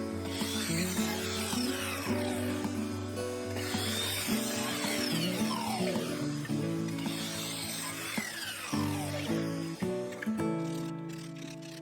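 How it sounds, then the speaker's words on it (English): Ash wood bowl segments being sanded to clean up rough edges, a steady, loud machine hum with continuous rasping friction running throughout, rising and falling as each piece is pressed against the abrasive. "I then had to sand each one to remove the scraggy bits"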